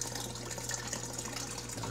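Water pouring steadily into a fish tank during an automatic water change, a continuous moderate gushing and splashing with no pauses or voices.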